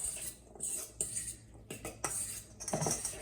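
Utensils scraping and clinking against a bowl as a chickpea and herb salad is tossed in vinaigrette, a few irregular close clatters separated by quiet gaps, no voices.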